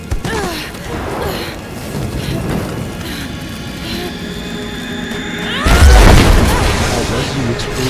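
A loud explosion in the Rise of the Tomb Raider video game bursts out near the end, rising over steady rain-like ambient noise and low rumbles.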